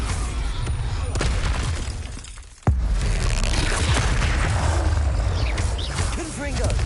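Bombarda spell blasts boom and shatter in Hogwarts Legacy, a loud burst cutting through a dense, noisy mix of battle effects, with a voice shouting spell names over the clash.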